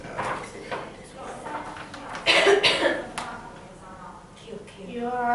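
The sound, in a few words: coughing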